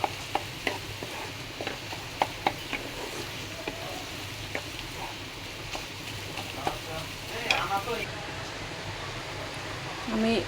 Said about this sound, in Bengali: ডিম দুটো ভালো করে ভাজি করে নেব।